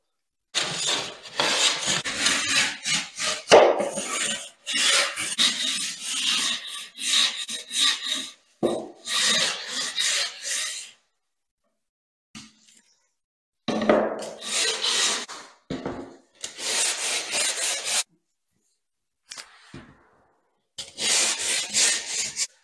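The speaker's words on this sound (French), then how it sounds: "pour la chanfreiner, je prends ce genre d'accessoire, hein. Tu vois, c'est un angle avec une petite lame de cutter." A plasterboard edge is chamfered with an angled tool fitted with a small cutter blade, giving repeated close rasping scrapes in bursts with brief pauses between strokes.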